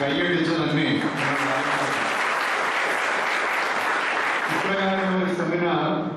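Audience at a church seminar on the Tharisappally copper plates breaks into steady, full applause lasting several seconds, framed by someone speaking into a microphone before and after.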